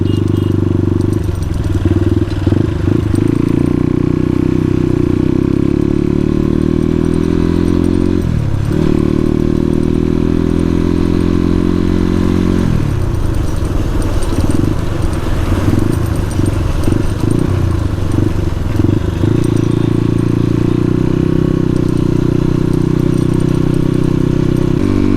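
A Suzuki RM250 dirt bike engine revs and drones loudly and continuously while being ridden, its pitch rising and falling with throttle changes and a brief dip near the middle.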